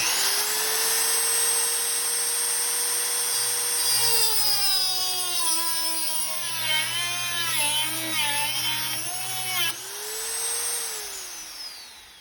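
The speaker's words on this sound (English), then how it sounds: "you turn your Dremel with the cutting blade on, turn it on basically on the full speed, and then we're just going to cut right through that" A Dremel rotary tool fitted with a cutting wheel runs at full speed in a high, steady whine, then bites into a metal bolt with a grinding, wavering pitch for several seconds before spinning freely again and winding down.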